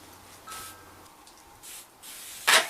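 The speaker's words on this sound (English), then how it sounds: "cooking spray on it." Cooking spray spritzed onto a pan on a rocket stove outdoors, a few short airy hissing bursts with a louder final spray, close by and with no talking.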